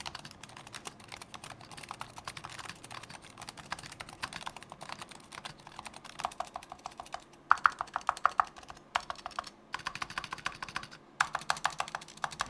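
Typing on a Razer Huntsman V2 TKL keyboard: rapid, crisp keystroke clicks in close, continuous bursts, with a few short pauses and some louder clacks near the end.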